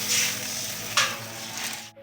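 Water hits hot oil in a pan while cooking dalia (broken wheat), setting off a loud, steady sizzle that flares sharply about halfway through and then cuts off abruptly.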